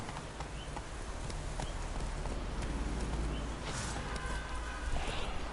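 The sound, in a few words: horse hooves clip-clopping in The Witcher 3: Wild Hunt video game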